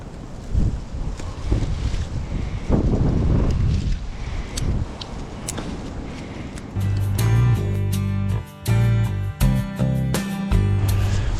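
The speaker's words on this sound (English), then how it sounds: "It's awfully windy" Strong wind buffets the microphone at a campfire in heavy, uneven gusts, with low rumbling bursts and a steady roar throughout.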